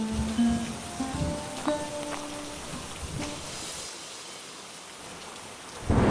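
Heavy rain pours steadily in an animated cartoon scene, a dense close wash of falling water with scattered louder drops and a low rumble, no voices heard.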